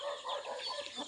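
Several native Bisaya hens cluck in short, overlapping calls close by, with a busy farmyard chatter filling the whole moment and no talking.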